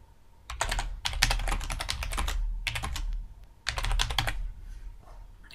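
Rapid clattering bursts of typing on a computer keyboard, close and crisp, in several runs separated by short pauses.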